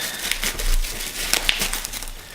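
Tiny packaging for a miniature iPhone being cut open, a short run of close crinkling and scraping bursts with a few sharper snaps, fairly quiet and with no talking.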